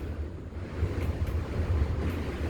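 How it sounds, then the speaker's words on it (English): Wind buffeting a wet wooden tower on Mt. Moosilauke in New Hampshire: steady low roar and rush of gusts into the microphone, rising slightly midway, with no voices. "and it's windy, but we're going to get moving."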